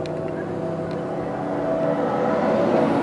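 Artificial engine sound from the BMW i8's active sound design: a steady engine drone with a layered, synthetic-sounding hum that builds slightly in loudness, with no talking.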